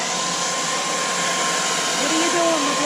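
A blow dryer blasts a steady, loud whooshing hum while heating the Dodge emblem on a 2018 Dodge Charger Daytona, held close and running continuously.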